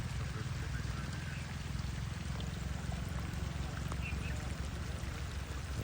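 Floodwater rushes continuously with a steady, broad roar near Shahkot, Punjab, loud and unbroken throughout.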